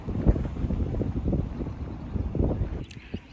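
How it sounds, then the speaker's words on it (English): Wind buffets the microphone outdoors in California's Channel Islands National Park, a low rumbling gusty roar in uneven pulses that drops away near the end. "I'm trying to hide from the wind so you can hear me."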